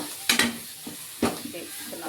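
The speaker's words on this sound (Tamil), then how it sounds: "இதிலே கொஞ்சம் நல்லா வதக்கிக்கோங்க" Masala with curry leaves and coriander being sautéed for a chicken cumin gravy, an even sizzle broken by a few sharp scraping stirs of a spoon in the pan.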